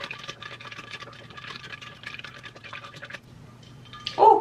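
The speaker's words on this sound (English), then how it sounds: "So you just want to stir that until it cools down." A spoon stirs ice water in a measuring cup, giving close, light scraping and clinking strokes for about three seconds before things go quiet, then a brief louder knock.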